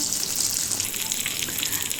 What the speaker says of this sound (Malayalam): ഒരു പാൻ വെച്ചിട്ട് കുറച്ചധികം അണ്ടിപ്പരിപ്പും മുന്തിരിയും കൂടി വറുത്തെടുക്കുകയാണ്